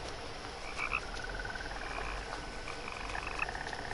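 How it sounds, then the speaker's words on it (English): In What Remains of Edith Finch, a chorus of frogs croaks continuously, with a few sharper chirping calls standing out over the steady ambient bed. "I can hear frogs."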